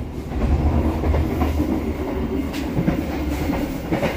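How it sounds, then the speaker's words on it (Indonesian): A commuter line train approaching a station in Indonesia, heard from inside as a steady low rumble with rhythmic wheel clatter and faint squeals, close and continuous with no talk. "Bentar lagi kita akan masuk stasiun Cicalengka."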